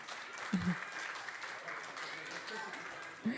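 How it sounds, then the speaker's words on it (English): An audience at a children's annual day and graduation celebration gives steady, full applause for the graduating students, with a brief voice rising above the clapping at the start and end. "Please give a big round of applause to all these students."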